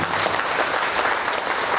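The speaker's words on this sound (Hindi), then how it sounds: "मैं चाहता हूं जोरदार तालियां पूरी मैनेजमेंट के लिए।" Sustained audience applause at an awards event honoring achievers, steady dense clapping for nearly two seconds, loud and even throughout with no voices over it.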